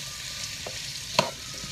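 Onions softening and browning in lamb fat, a dense continuous sizzle close up with one sharp spoon scrape near the end, no voices.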